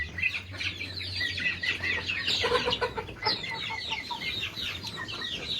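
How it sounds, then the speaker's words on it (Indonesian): Close, steady clucking and chattering from a crowd of nearly a hundred chickens inside a coop one morning, the overlapping calls continuing throughout with no talk. "Tapi pagi ini saya melihat ada banyak ayam di kandang ini."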